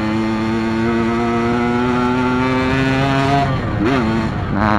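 A two-stroke motorcycle fitted with a loud racing exhaust idles and blips close by, its harsh buzzing drone rising briefly in pitch with a quick throttle twist near the end.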